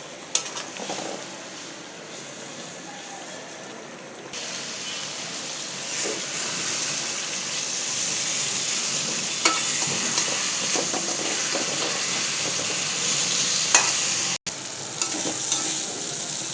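Fried fish stirred with spices in a pan for a papaya curry, a steady loud sizzle with scraping stirs and occasional clinks of a utensil against the pan throughout.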